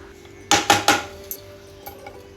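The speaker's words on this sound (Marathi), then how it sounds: "खोबऱ्याचं प्रमाण जास्त असल्यामुळे थोडं थोडं करून भाजून घ्यावं लागेल आपल्याला" Grated coconut is dry-roasted in a pan for a traditional Marathi suttvada dish: three quick metallic clanks of a utensil against the pan, then a couple of faint taps, close and without speech.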